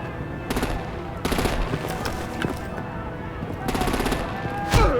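Bursts of rapid gunfire in a Batman: The Enemy Within battle come in about four clusters, with short loud volleys separated by lulls and a sharp hit near the end, over a steady background din.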